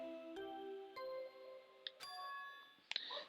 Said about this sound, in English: Yeah, that bell just now,